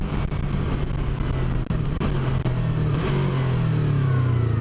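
A Yamaha R3 sport motorcycle accelerates to pass, its engine note climbing steadily in pitch as it revs up close and loud, with wind rushing underneath.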